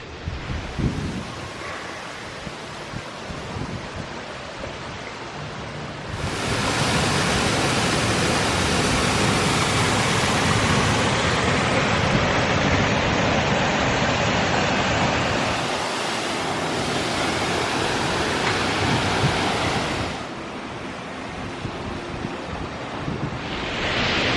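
Copper Creek Falls, a waterfall at Disney's Wilderness Lodge, roars as a steady broadband rush of falling water close by, swelling louder through the middle stretch and easing near the end, with no talk.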